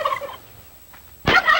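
A turkey gobbles close by, a loud warbling call that breaks off, then returns after a short pause.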